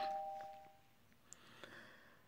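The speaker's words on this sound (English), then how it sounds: "if it wasn't because of the doorbell ringing." A doorbell chimes at the start, a clear ringing tone fading out, followed by faint clicks and small knocks in a quiet room.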